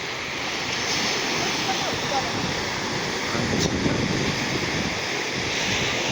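Surf rolls onto a beach in Vizag, a continuous broad wash of breaking waves mixed with wind buffeting the microphone, steady and fairly loud throughout.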